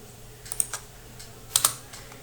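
Several quick keystrokes on a computer keyboard while HTML table code is typed, two short bursts of clicky taps about a second apart, close and fairly quiet with no talking.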